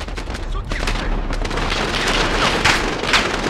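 Rapid gunfire in the Modern Warfare remake video game: a continuous, loud stream of overlapping shots and booms with no pause.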